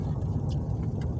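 A truck engine idles with a steady low rumble, close and continuous, with faint ticking on top, parked beside a park.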